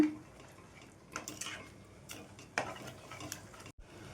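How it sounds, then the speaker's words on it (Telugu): A spoon stirs a thickening ragi flour mixture in a pot on the stove, giving soft scraping and light knocks at a close, quiet level with faint cooking noise beneath. "ఎక్కడ ఉండల్లా కట్టకుండా ఈ విధంగా కలుపుకుంటూ ఉండాలండి"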